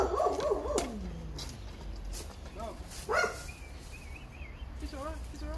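At a competition archery range, a dog gives a few barks, then thin high whines and whimpers, moderately near, with quieter gaps and background noise between.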